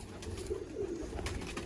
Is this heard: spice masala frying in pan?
no